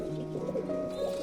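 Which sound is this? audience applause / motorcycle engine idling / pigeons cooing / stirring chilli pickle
pigeons cooing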